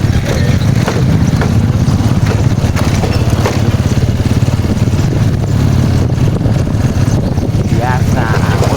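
Motorbike ridden on the road, engine droning steadily and loud throughout with constant low rumble, no talking over it.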